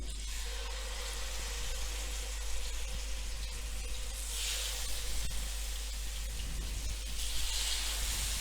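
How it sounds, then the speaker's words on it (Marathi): Surmai fish shallow frying in hot oil in a pan, giving a continuous, even sizzle and hiss with a low hum underneath and slight swells in intensity. "आपण हे शॅलो फ्राय करतो आहे"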